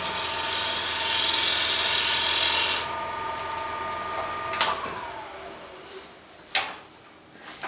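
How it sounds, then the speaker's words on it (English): A lathe tool takes a shear cut while turning a wooden sphere, giving a steady high whirring scrape close up that stops partway through, followed by a couple of sharp clicks and knocks. "a shear scrape or a shear cut"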